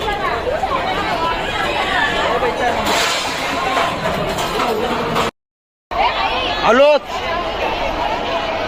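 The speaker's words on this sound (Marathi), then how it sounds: "आता दुपारची गर्दी बघा आपण आपण सकाळी आहोत तर सकाळी एवढी गर्दी नव्हती पण आता जामच गर्दी आहे" Dense crowd chatter at the Balumama temple in Adamapur, many overlapping voices in a busy midday throng, with brief clinks and a short sudden gap of silence partway through before the babble resumes.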